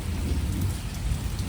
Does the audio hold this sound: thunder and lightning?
yes